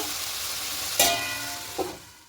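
Minced chicken keema fries in a pan with a steady sizzle. There are two brief stirring scrapes, one at the midpoint and one near the end, and the sound stays close and fairly quiet with no talking.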